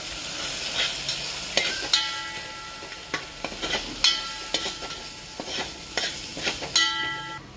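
Spices being stirred into an onion-tomato masala frying in a pan, with a steady sizzle under repeated scraping strokes of a spoon against the pan, close and fairly quiet.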